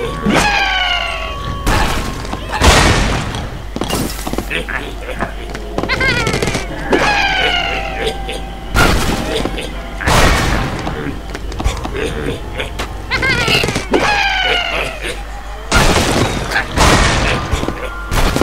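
Repeated deep booms of exploding bombs in Angry Birds Seasons, several blasts spaced a few seconds apart, with busy chiptune-like music and effects throughout.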